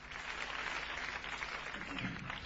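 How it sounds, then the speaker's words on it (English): Faint, steady applause at the close of a played music track on a radio show, a soft even patter of clapping with no voices over it. "Just applause, isn't it?"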